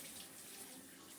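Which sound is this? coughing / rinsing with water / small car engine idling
rinsing with water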